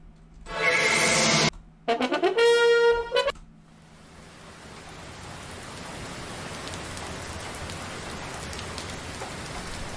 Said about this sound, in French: c'est la pluie. J'ai été accueilli par une averse.